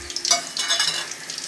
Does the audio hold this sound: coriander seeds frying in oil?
yes